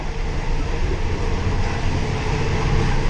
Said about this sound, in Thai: รถไฟกำลังจะเข้าจอดที่ สถานีนครสวรรค์แล้วครับ